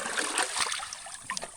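Water splashes and trickles as it is scooped out of a rocky prospecting hole, a steady run of close wet splatters with a few sharper splashes.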